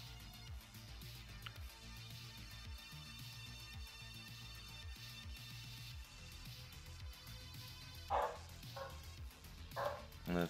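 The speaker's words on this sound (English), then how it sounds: "My lovely dog." A dog barks and yips in short bursts, loudest near the end, heard fairly close over a steady background of other sound.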